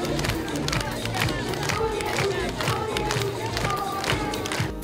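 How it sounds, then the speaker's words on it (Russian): Lively crowd at a school opening ceremony as first-graders take their places, a dense continuous wash of clapping and cheering held at steady volume throughout. "Первоклассники под бурные аплодисменты."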